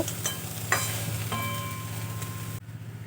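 Mustard greens sizzle and hiss as they are stirred and cooked in a pan, with steady frying crackle, a few scraping stirs, and a soft rhythmic low hum underneath, ending abruptly.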